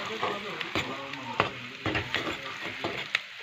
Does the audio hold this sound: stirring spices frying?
yes